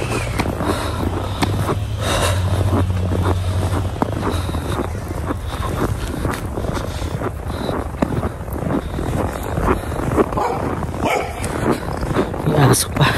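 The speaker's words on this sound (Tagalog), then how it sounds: "May aso pa." A dog barks outdoors during a heavy snow shower, partly buried under steady wind rumble and nearby talking.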